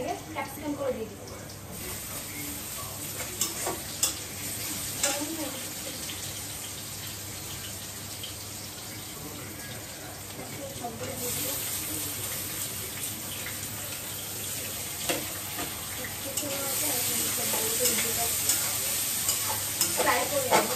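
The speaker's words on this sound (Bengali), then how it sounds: "ফ্রাই করে নেব, দুটো একটু ভাজা ভাজা হয় এবং রান্না হয়ে যায়।" Capsicum stir-fries for chowmein noodles with a continuous close sizzle, while a spatula scrapes and taps the pan and the frying builds slightly louder toward the end.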